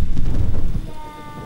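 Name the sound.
thunder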